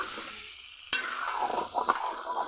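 A fish head fries with spice powders and chili powder in a pan, a moderate sizzle broken by one sharp clack and a few stirring scrapes, close by and without speech.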